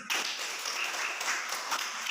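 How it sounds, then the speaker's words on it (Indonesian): A class of children clapping their hands together in a schoolroom, a brief burst of close, busy clapping lasting about two seconds. "Tepuk tangan."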